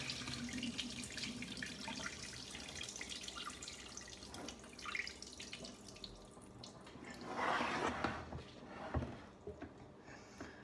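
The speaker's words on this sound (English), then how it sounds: "Let's rinse it with water, cold water." Cold tap water runs steadily into a sink while a turkey is rinsed, with splashing and dripping that swell and shift as the bird is moved under the stream, close and alone without speech.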